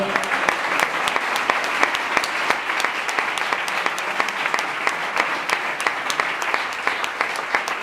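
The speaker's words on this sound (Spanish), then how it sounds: "Un fuerte aplauso." At a retirement celebration for schoolteachers in Maracena, an audience gives steady, dense applause throughout, many hands clapping continuously at close range without pause.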